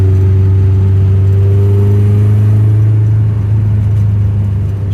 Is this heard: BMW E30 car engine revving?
yes